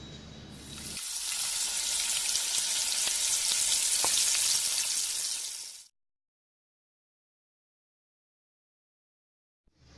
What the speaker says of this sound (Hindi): तेल गरम होते ही फ़िशेस को फ्राई कर लीजिए।